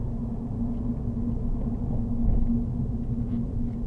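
A car drives along New Road on a Hainault driving test route, heard from inside as a steady low engine and road rumble with a faint hum, alone and unbroken throughout.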